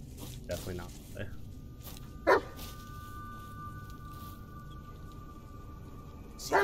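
A dog barks in the Blair Witch video game, with two short, loud barks spaced a few seconds apart over a low ambient game background, and a voice talks intermittently around them.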